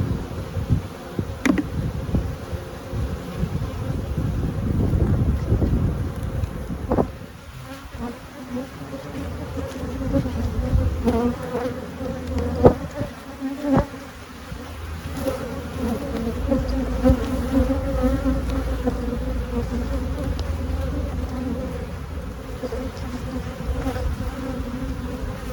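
Honeybees in a heavy, busy hive drone in a dense, continuous buzz close by, swelling and easing over about twenty-five seconds, with a few brief knocks from handling the hive boxes.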